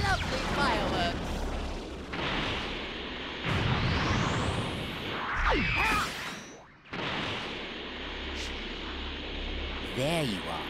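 Explosions and blasts in the Dragon Ball Breakers video game with Frieza, heavy booming bursts and crashes with whooshing energy effects, loud and close, running nearly nonstop under game voices and music.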